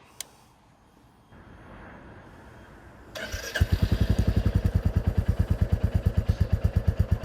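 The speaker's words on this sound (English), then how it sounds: "That distinctive thump of a single-cylinder motorcycle" A Royal Enfield Classic 350 single-cylinder motorcycle starts after a quiet moment, then settles into a loud, close, steady thumping idle with evenly spaced, deep pulses and no talking.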